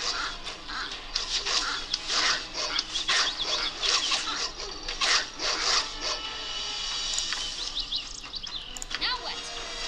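Dogs in the fantasy role-playing game Baldur's Gate snarl and yelp in a busy melee, with rasping, scraping combat effects in a steady clatter and a voice talking over parts of it.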